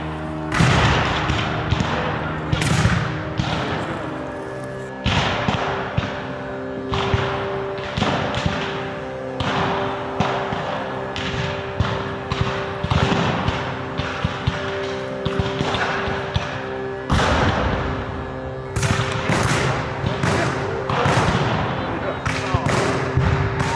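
Musket volleys in an American Civil War battle scene, repeated sharp cracks and thuds in irregular bursts, with voices shouting over the firing.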